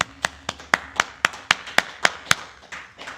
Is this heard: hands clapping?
yes